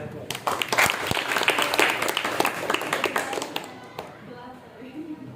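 An audience at a journalism training session claps, a dense burst of hand claps that swells and then thins out, with voices talking over it near the end.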